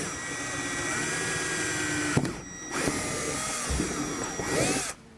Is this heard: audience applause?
no